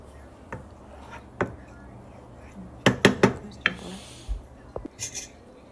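Heavy cream being stirred into a pan for spicy onion spaghetti, with scattered clinks and knocks of a utensil against the cookware, a quick cluster of taps midway, fairly close and otherwise quiet.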